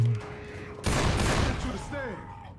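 A sudden burst of rapid gunfire in the zombie shooter Left 4 Dead, loud and dense for about a second before tapering off, with a voice briefly heard.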